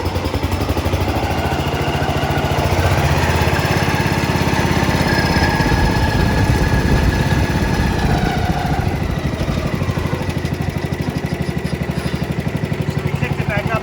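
An original International Cub Cadet tractor engine runs loudly nearby with a rough, pulsing chug, its pitch shifting slightly as the load changes partway through.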